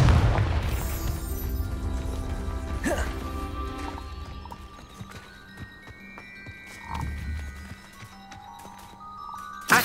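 A Confringo blasting spell bursts in the Hogwarts Legacy video game, a booming hit near the start with further rumbling impacts layered over game music and effects.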